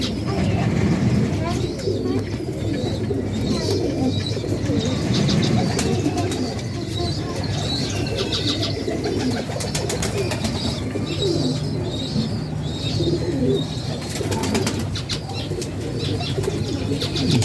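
Breeder pigeons coo in soft, low murmurs amid chirps and wing flutters, with steady background noise and a voice talking throughout.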